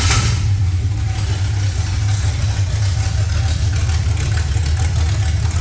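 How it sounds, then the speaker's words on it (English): A 1973 Corvette, already warmed up, idles with open exhaust running through straight long tubes and no mufflers: a steady, loud, deep rumble held evenly throughout with no revving. "it's open exhaust, so it's just straight long tubes right now. There's no exhaust hooked up."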